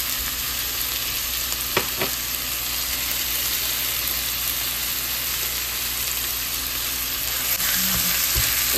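Chicken sautéing in a pan with lemon juice and black pepper, a loud steady hissing sizzle throughout, with a couple of faint utensil taps, close by and no voices.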